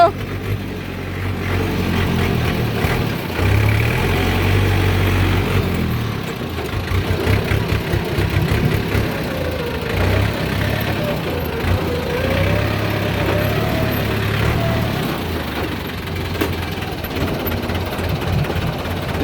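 A tractor engine runs steadily close by with a deep, rumbling low throb that swells and dips, while people talk over it throughout.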